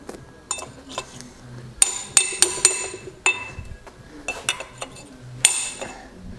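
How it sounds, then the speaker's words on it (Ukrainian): A small hammer taps a metal part of a BMW E46 limited-slip differential in a series of sharp, bright clinks, irregularly spaced and close by, with quiet rustling between strikes. "це зараз поправимо молоточком"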